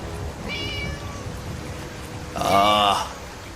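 A cartoon cat gives two meows, a short thin one early and a louder, drawn-out cry near the end, over faint background sound.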